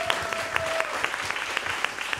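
An audience applauds after a live music performance on a show, giving steady, lively clapping throughout with a faint tone briefly under it at the start.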